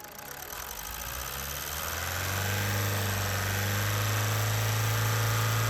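A Mazda CX-5 2.2 diesel engine revs up from idle, its low steady drone climbing and thickening into a loud, sustained hum with no one speaking.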